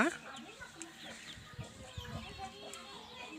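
A short-nosed, long-tailed hen of heavy build clucking softly at close range, with faint rooster and fowl calls in the background and a quiet farmyard ambience.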